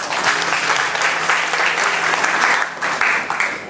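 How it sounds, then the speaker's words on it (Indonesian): Wedding guests applaud during a church marriage blessing ceremony, a loud, full round of clapping with slight surges and a brief dip before picking up again near the end. "Kita tepuk tangan."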